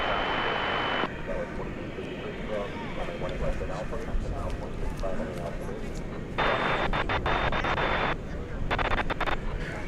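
A jet lifting off at DFW Airport, a steady broadband roar heard from a distance that holds throughout, with people talking over it.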